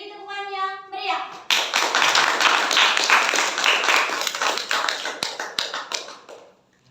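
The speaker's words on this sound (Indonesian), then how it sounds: "Beri tepukan yang meriah." An audience at a school theater performance bursts into loud, dense clapping that swells, holds for several seconds, then thins out into scattered claps and fades, with a voice heard briefly before it starts.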